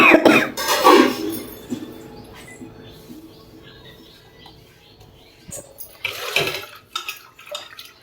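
Water splashes and trickles into a metal pot for cooking barley porridge, loudest at the start, then fades to quiet clinks before a second brief pour near the end.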